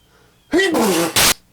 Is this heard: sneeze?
yes